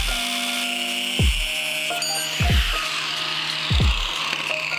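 A mini bike's extended engine output shaft is cut down with a power tool that gives a steady high whine, with three short heavier cutting passes each ending in a falling, decaying drop, close and loud.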